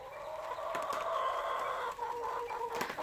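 A rooster in a backyard summer chicken coop gives a drawn-out, close clucking call, fairly loud and alone without talk.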